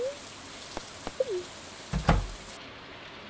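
Steady soft patter of rain in the farming game Stardew Valley, a low continuous hiss broken by brief game tones and a few small thuds.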